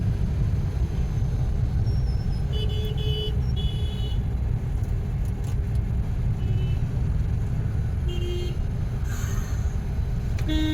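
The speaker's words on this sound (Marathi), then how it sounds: "he traffic" Continuous low rumble of road traffic with passing vehicles and a few short horn toots, steady and fairly loud throughout.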